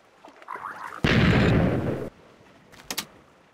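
A shotgun fires in the Technic modpack's Balkon's Weapons for Minecraft, one loud, broad blast lasting about a second. Softer game clicks come before it and a couple of short pops follow.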